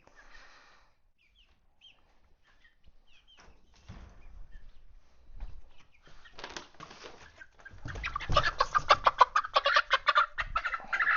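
Young chicks being moved into their new home cluck and cheep softly at first, then a burst of frantic wing flapping and agitated squawking erupts close by toward the end.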